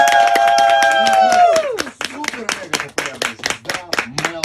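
A studio audience at a morning radio show claps in a quick, rhythmic run of sharp hand claps. A sustained sung or tonal voice comes just before the clapping.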